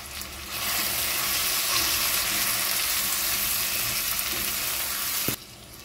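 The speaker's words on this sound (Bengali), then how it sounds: "গ্যাসের ফ্লেমটা আমি মিডিয়াম টু লোতে দিয়ে মশলাটা 3 থেকে 4 মিনিট মতো খুব ভালো করে কষিয়ে নেব।" Spice masala of chilli, salt and turmeric with a splash of water sizzles steadily in a pan over a medium-low gas flame, a loud continuous hiss that cuts off near the end with a single faint clink.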